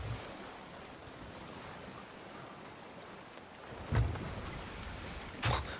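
Ocean waves in the Sea of Thieves pirate game make a steady, soft wash of surf with wind. Two louder wave crashes break through near the end.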